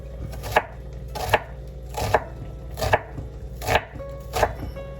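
Garlic chopped on a board in a kitchen: sharp knife strikes land at a steady, unhurried pace, about seven distinct chops, close and clear with no talk.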